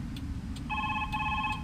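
A telephone rings in a FNAF video game, two bright electronic trill bursts in quick succession, loud and close with no voices.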